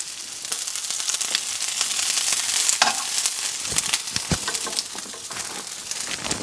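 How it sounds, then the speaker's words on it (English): Asparagus frying in about two teaspoons of olive oil in a pan, a close crackling sizzle broken by sharp spatter pops and stirring scrapes throughout. "Put in some olive oil. About 2 teaspoons of that. Throw in our asparagus."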